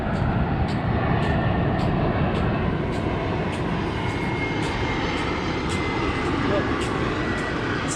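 An airplane passes overhead near Gold Coast airport in Australia during a sunset walk, its engine a steady, broad, distant roar that holds for the whole stretch.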